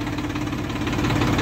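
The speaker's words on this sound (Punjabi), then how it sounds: "ਆਪਾਂ ਲਿਆ ਕਰਤਾਰ ਟਰੈਕਟਰ ਦੇ, ਤੁਹਾਨੂੰ ਖਿਚਾਈ ਦਿਖਾਉਣਾ" A Kartar tractor pulling an eleven-tine plough runs its engine in a loud, close, steady knocking rumble with an even, throbbing rhythm.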